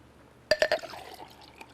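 Water poured from a container into diesel fuel, giving a short splashing burst of three quick gulps followed by a softer trickle that fades out, close by and with no voices.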